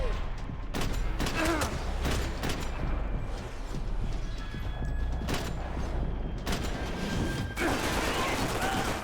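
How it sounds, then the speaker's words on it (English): Rapid bursts of submachine gun fire in the Max Payne 3 shooter game, sharp repeated volleys with clattering mechanical noises and distant rifle shots underneath, loud and close throughout. "Another reason why I'm leaning on this submachine gun pretty heavy, or pretty hard."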